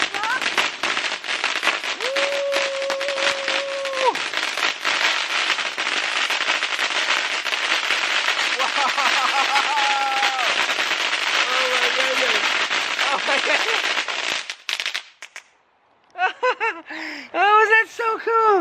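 Homemade fireworks crackling and fizzing loudly and continuously for about fourteen seconds, then falling quiet, with excited voices and laughter over and after the display.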